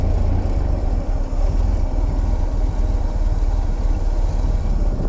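Engine idling after a new carburetor was fitted, a steady low rumble with a fast, even pulse running close and loud throughout, no voices.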